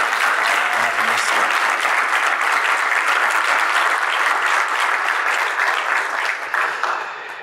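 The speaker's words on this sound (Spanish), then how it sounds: "¿Alguien le puede dar un aplauso al Señor por Somebody eso?" A church congregation applauds, a sustained, full wash of clapping from many hands that holds steady and then tapers slightly at the very end.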